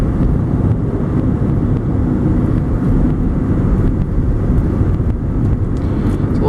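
A 1998 Honda Civic LX four-door sedan on a test drive, its engine running as it drives: a steady, fairly loud low rumble of engine and road noise, continuous throughout and without any voices.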